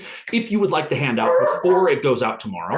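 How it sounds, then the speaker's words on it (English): A dog yips and whines in the background while someone speaks continuously in the foreground, the animal's sounds partly masked by her voice. "you can hear my dog in the background"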